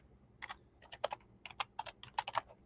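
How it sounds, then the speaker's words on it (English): Quick bursts of typing on a computer keyboard, close up with soft clacking keys in short uneven runs and brief pauses, no voices. "So let's type this in."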